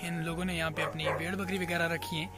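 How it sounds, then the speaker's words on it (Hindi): A dog barks harshly inside a herders' house used to shelter sheep and goats, heard under someone talking close by for the whole stretch. "अंदर एक कुत्ता भौंक रहा है बहुत बुरे तरीके से"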